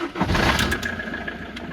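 The engine of a camper van cranks and catches, then settles into a steady rumbling idle, close and fairly loud.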